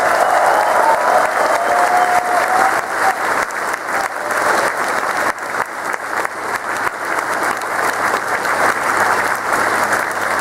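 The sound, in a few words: audience applause at convention opening ceremony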